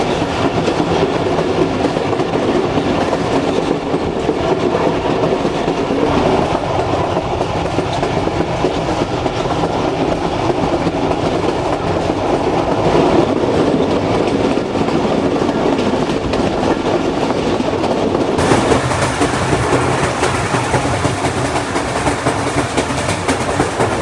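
A passenger train between Rawalpindi and Attock rolls along the rails, a loud continuous rumble with rhythmic clickety-clack of wheels over joints, heard from aboard and sustained throughout without talk.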